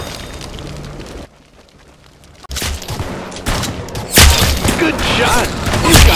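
Rapid gunfire from a Roblox Arsenal match: loud, dense bursts of shots after a brief quieter lull, building to heavy overlapping fire near the end.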